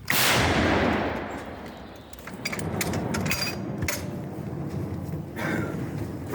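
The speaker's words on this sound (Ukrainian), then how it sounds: "Постріл!" A single loud, booming blast from an M119 howitzer at the start, followed by a long rumbling echo that rolls on and fades into the distance.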